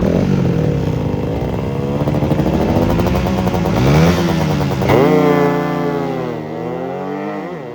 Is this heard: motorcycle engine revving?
yes